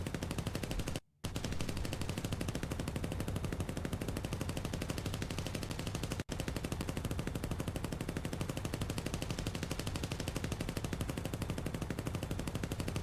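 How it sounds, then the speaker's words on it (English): Machine guns in a flight combat game fire in long, rapid, continuous bursts with a steady mechanical rattle, briefly cutting out twice. "fire your machine guns really quick"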